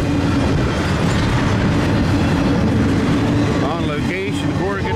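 A westbound stack intermodal freight train rolls past at Rock Cut Road crossing near Corriganville, Maryland, on the Keystone subdivision, with loud continuous wheel rumble and clickety-clack, wheel squeal near the end, and faint talk underneath.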